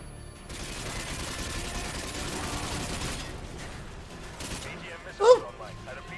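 Gunfire in the Call of Duty Modern Warfare 2 campaign on Veteran difficulty: a few seconds of dense, continuous shooting that eases off, then one sharper, louder shot near the end.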